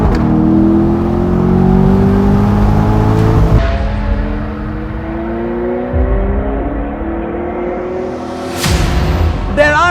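A V8 supercar engine drones and revs, its pitch climbing and falling through gear changes, loud and continuous with a sharp burst of acceleration near the end.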